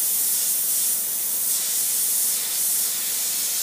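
Airbrush air hissing steadily for several seconds, a loud close spray with a slight pulse in strength and no talk.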